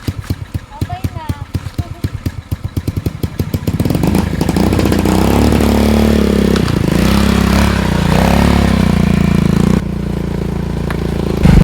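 A motorcycle carrying a mixed-breed aspin dog named Alpha sputters in rhythmic pulses at idle, then revs into a loud steady engine drone that holds with shifting pitch; voices can be heard over the engine.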